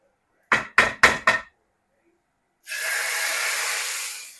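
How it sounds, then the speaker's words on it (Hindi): Four quick, sharp knocks are followed by a pause, then a loud, steady sizzle as cumin and garlic hit hot oil. "ये होता है तड़का।"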